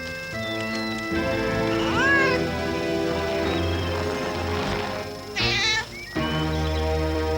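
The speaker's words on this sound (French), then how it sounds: "Ah! Le chat!" A cartoon cat meows loudly and insistently, with a drawn-out yowling call over a bright musical backing in a French children's TV program, and a sharp squeal near the end.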